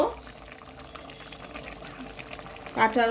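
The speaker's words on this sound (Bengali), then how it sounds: "ঝোলটা ফুটে গেছে, এবারে একটু কাঁচা তেল দিয়ে দেবো" Raw mustard oil is poured into a boiling katla fish curry, a short, soft liquid pour over gentle bubbling, with a voice speaking near the end.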